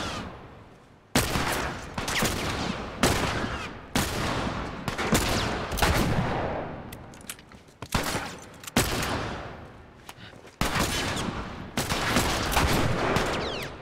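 Gunfire in The Last of Us, a series of loud, close shots and bursts, each followed by a decaying echo tail, repeated at irregular intervals over roughly fourteen seconds.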